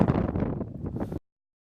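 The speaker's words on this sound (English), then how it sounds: "Hear the wind. It's blowing quite a lot." Strong wind blows at a hilltop fort on St Kitts, buffeting the microphone with a loud, steady low roar and gusty rumble for about a second before cutting off abruptly.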